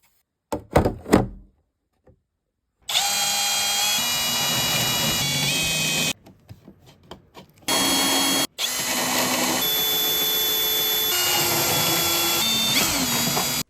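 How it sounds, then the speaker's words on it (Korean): Power drill grinding down hardened filler on a cracked plastic pedalboard, loud and close in several bursts, with knocks and pauses between runs. "드릴로 한번 갈아준 다음"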